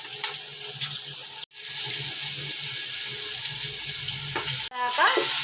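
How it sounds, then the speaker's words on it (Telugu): Ginger-garlic paste frying with browned onions in a pan, a steady loud sizzle with stirring scrapes and a faint tap of water, cut by two brief silent breaks. "అల్లం వెల్లిపాయ పేస్ట్ వేయాలి."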